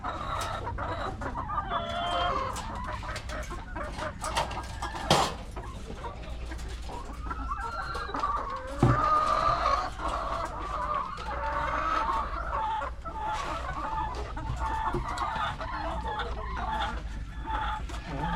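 Pet chickens cluck steadily in a backyard flock, with occasional rooster-like calls rising over a constant low background hum; no one speaks.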